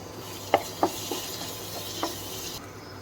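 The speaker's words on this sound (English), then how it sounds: "And stir it for some time again." Paneer bhurji is stirred in a pan with a few sharp spoon knocks against the metal, spaced irregularly over a faint steady sizzle.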